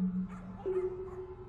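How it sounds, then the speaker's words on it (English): Dogs yip and whimper faintly in the background, a few brief high cries over a steady droning tone. "Why do I hear dogs in the background?"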